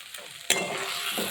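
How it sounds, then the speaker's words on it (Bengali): Hinche (helencha) greens being stirred and fried in oil in a kadai, a soft scraping stir with a sharp clack partway through, then a steady close hiss of frying. "এইভাবে ক্রমাগত নাড়তে থাকবেন গা থেকে যতক্ষণ না তেলটা ছেড়ে আসছে"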